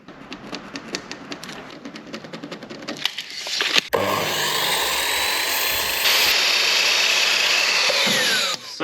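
Faint tapping and handling noises come first, then a power saw starts up and cuts steadily through wooden planks, loud and continuous for several seconds before it stops.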